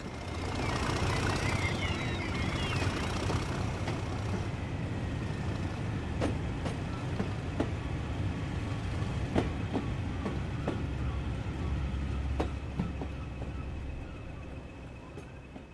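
Class 37 diesel locomotive 37798 pulls away from Milford-on-Sea station with a steady, rumbling engine drone and a regular series of sharp wheel clicks over rail joints, continuing without talk.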